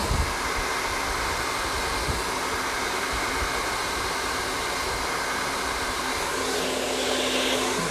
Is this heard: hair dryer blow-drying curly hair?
yes